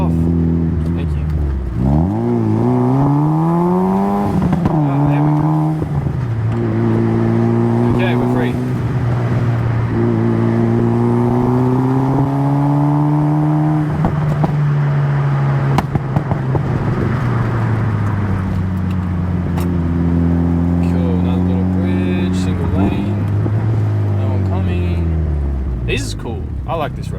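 A Mitsubishi Evo 9 on the twisting Springbrook Mountain road, its engine loud and close as revs climb and drop through repeated gear changes, with a steady rumble throughout and occasional voices over it.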